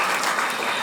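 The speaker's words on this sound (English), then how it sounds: "a small round of applause to everybody who's been part of the 15" A small round of applause from a conference audience at an eye-care specialists' gathering, steady dense clapping filling the whole moment at moderate loudness with no talk over it.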